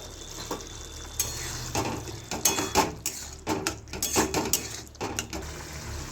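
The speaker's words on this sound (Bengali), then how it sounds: "এবার মুসুর ডালটাও এর সাথে আমি কষে নেব।" Soaked red lentils are stirred and sautéed in a pan with scraping utensil strokes and a soft sizzle, irregular clinks and scrapes over a low background hum.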